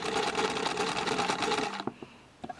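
A sewing machine stitches the seam of a frilly baby top, running steadily and close for nearly two seconds, then stopping and giving a few short bursts.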